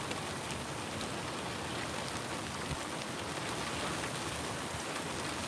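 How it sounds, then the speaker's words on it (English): Steady rain falls at the SpaceX Starbase launch site in Boca Chica, Texas, a continuous moderate hiss of drops on surfaces with no break and no voices. "It is raining."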